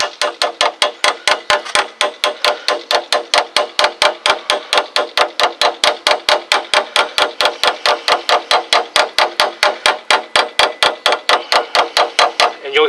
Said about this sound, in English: You'll hear the sound, the pitch sound of the hammer.